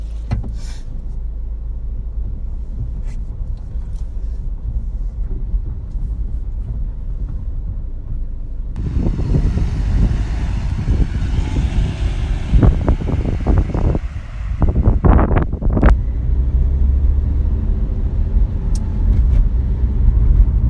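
A Mini Paceman Cooper SD diesel car drives along the road with a steady engine hum and tyre rumble, wind noise rising midway, along with a few brief knocks.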